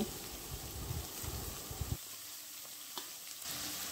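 Fish pieces drop into a pan of ginger and garlic frying in oil, giving a soft steady sizzle with a few bubbling pops, then the sound thins and crackles on more quietly.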